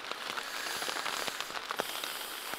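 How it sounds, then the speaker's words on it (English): Rain falls steadily outdoors at a wilderness campsite, a dense crackling patter of drops striking a nearby surface such as a tent, continuous and fairly soft with no voices. "It's raining quite a bit."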